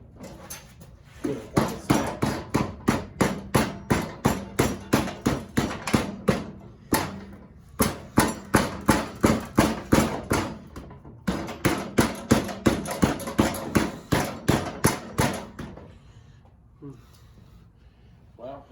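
Repeated hammer taps on a bolt in the transaxle of an MTD lawn tractor, a steady run of sharp, close metallic knocks in three bursts before fading to quiet.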